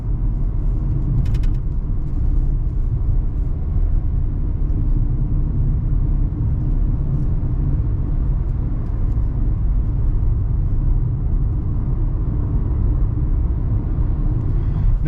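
A 2023 Kia Rio S hatchback accelerates up a ramp to merge onto a highway, heard from inside the cabin as a steady loud engine drone and road rumble.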